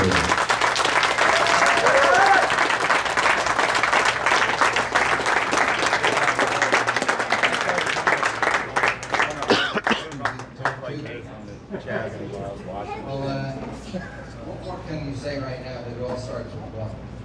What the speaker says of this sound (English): Your 2021 champion, nice round of applause, Parker Bohm III.